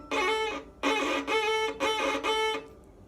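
A violin played with very short bow strokes, four separate scratchy, nasal notes in quick succession, close and fairly loud with no talking.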